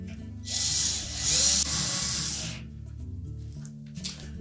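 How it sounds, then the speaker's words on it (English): A power drill drives a screw into the back panel of a Whirlpool range in one whirring burst of about two seconds, followed by quieter handling clicks. "Install the screws that hold the panel in place."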